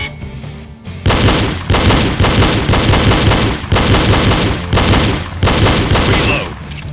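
Pistol gunshots ring out in a live-fire shooting drill, a long run of sharp, loud reports fired in quick bursts with brief pauses between strings, close and dominant throughout.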